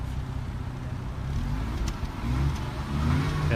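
A Mazda RX-7 rotary engine, from the FC and FD generations, revs in a continuous low droning rumble that swells slightly louder toward the end, heard close up with no talk over it.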